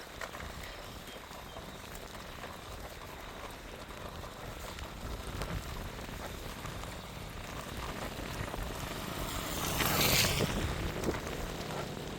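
Heavy rain pours down in Jaffna, a steady broadband hiss of drops on surfaces that holds even throughout and swells louder around the ten-second mark before settling again, with no voices.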